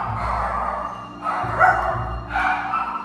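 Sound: dog barking

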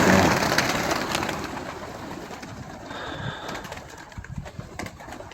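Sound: pigeons of the stork pigeon breed cooing while feeding

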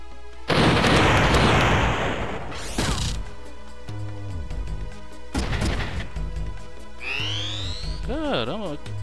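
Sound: grenade explosion in the video game Front Mission 3

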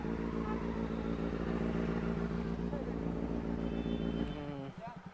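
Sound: BMW S1000RR superbike engine while parking

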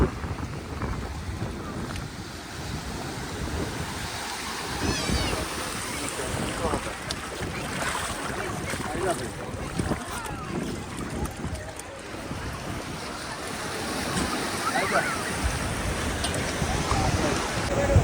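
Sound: speed boat ride at Juhu beach, Mumbai

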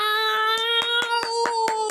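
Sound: audience applause in Lamar Idle video game

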